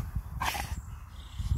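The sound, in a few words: dog barking and growling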